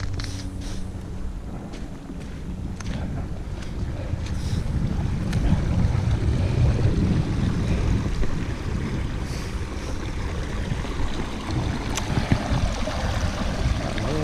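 Water at a stream source on Dartmoor's Sheeps Tor, a steady broad wash of flow with wind buffeting the microphone outdoors, continuous and fairly close, with no talk.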